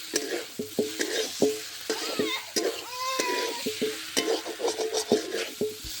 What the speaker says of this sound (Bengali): এবার পটলটার সঙ্গে মশলাটা ভালো করে মিশিয়ে নেব।